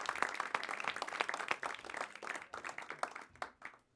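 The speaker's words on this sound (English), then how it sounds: "I think we can give a big applause" An audience claps after speakers at a talk on financing agroecological food enterprises, a dense, fairly faint burst of applause that thins out and fades toward the end.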